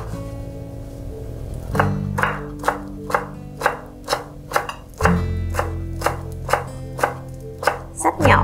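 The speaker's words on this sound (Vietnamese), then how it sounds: "Xắt nhỏ một ít ngò ra." Knife chopping cilantro on a cutting board for a shrimp and quinoa salad: a steady run of about a dozen crisp, close knocks, evenly spaced, with no talking.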